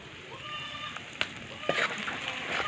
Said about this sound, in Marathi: लसूण आणि खोबरं टाक कुटून घेतलं होतं ना ते टाकून चांगलं फ्राय करून घेणार आहोत